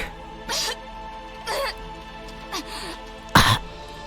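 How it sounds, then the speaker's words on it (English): A character in the Umineko visual novel coughs and clears her throat in four separate bursts, close and distinct, with the last one the loudest and harshest. "Rosa coughed violently again, forcefully spitting out the stomach acid that had been burning in her throat"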